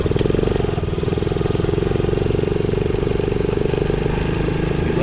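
A 125cc Honda CT70 Trail 70 clone motorcycle engine idling nearby, with a steady, even putter of fast exhaust pulses and a light mechanical clatter holding a constant pace from start to finish.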